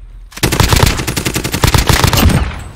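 Loud, sustained automatic gunfire in an online shooter video game: rapid overlapping bursts that start abruptly and keep going as a dense, close barrage.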